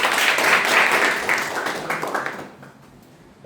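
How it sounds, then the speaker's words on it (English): Audience applause at a Toastmasters club meeting, a broad burst of clapping that swells at first, then thins and fades away toward the end. "Have a big round of applause."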